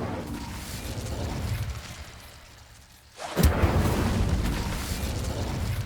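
Incendio fire spell cast in Hogwarts Legacy: a sudden loud whooshing burst erupts partway through, then a sustained fiery roar continues over a steady background hum.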